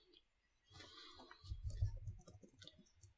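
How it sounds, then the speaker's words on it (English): Soft, irregular keyboard clicks tap away quietly, with a low muffled thump partway through. "Sorry, typing."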